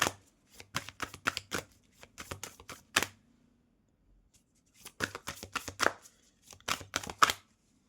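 Tarot cards being shuffled in bursts of crisp riffling and flicking, close and fairly quiet, with a short pause between two rounds of shuffling and no talk.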